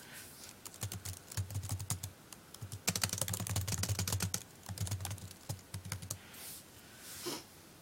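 Typing on a computer keyboard: bursts of quick, crisp key clicks, fairly close and moderately quiet, with short pauses between runs.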